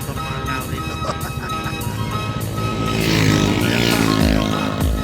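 Motorcycles ride along a coastal road in Calatagan, Batangas, with a steady engine drone that swells louder and closer around the middle as bikes pass.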